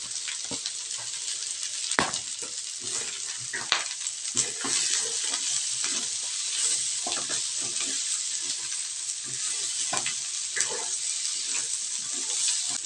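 Ginger drops into a hot pan of Bicol Express, a Filipino pork and chili dish, hissing with a bright, steady sizzle, while a utensil scrapes and taps now and then, close by.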